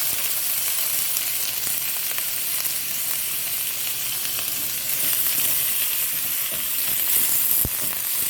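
Mixed vegetables sizzling and frying in a pan over medium heat for Guyanese chowmein, a steady, dense hiss that holds for the whole stretch with a few faint stirring clicks.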